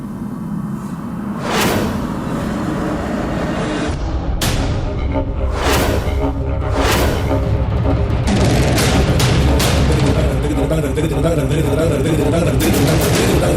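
Gunshot effects in a TV drama: a run of sharp booms and bangs bursts out at intervals over a rumbling dramatic score.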